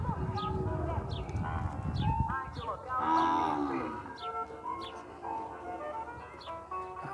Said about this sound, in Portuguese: Vai embora mais um lote de bezerro aqui.